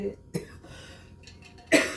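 Two short, sharp coughs, one near the start and a louder one toward the end, separated by a quiet stretch of faint background noise.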